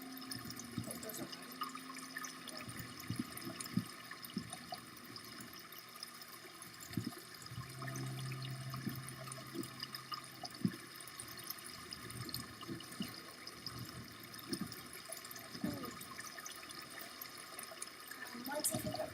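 Water flowing in the game Creativerse makes a soft, continuous trickling wash under occasional quiet talk, with faint clicks and scattered game sounds throughout.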